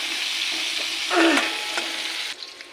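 Ingredients with turmeric fry in hot oil for cauliflower khichdi, giving a loud continuous sizzle with a brief burst of stirring before the sound drops off near the end.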